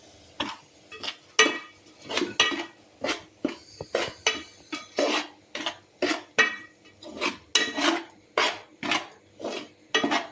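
Flour is roasted in ghee in a pan for methi ladu while a metal spoon scrapes and stirs in steady, rhythmic strokes. The close, gritty scraping repeats about twice a second, with no talking.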